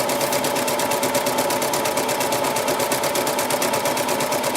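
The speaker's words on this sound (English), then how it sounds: "You're going to set your machine to the longest stitch, and you're not going to reverse this." A sewing machine set to its longest stitch runs gathering stitches, a loud, close, steady rapid whirring with an even mechanical pulse throughout and no voices.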